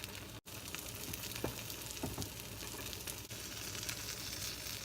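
An omelette frying in a pan makes a steady, close hiss and sizzle, with a few small clinks and one brief dropout.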